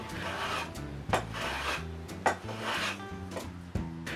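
Rhythmic rasping strokes of a file or sanding tool chamfering the sharp corners of a wooden Sesame Street sign, a dozen or so back-and-forth passes at close range with a few sharper knocks.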